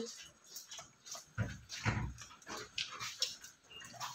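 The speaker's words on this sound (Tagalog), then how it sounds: "Tahol ka ng tahol." A dog barks and whimpers in short bursts at a home feeding time, close by and mixed with a person talking in Tagalog.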